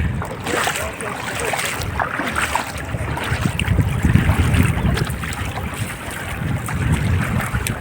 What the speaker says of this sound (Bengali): ঢেউর পরিমাণ বাড়ছে আস্তে আস্তে